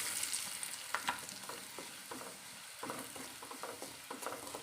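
Garlic frying in a pan as spice powder is stirred in, a close, low sizzle broken by repeated scraping strokes of a spoon against the pan.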